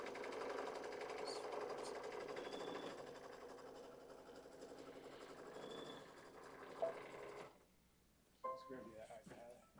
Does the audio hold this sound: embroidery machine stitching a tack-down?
yes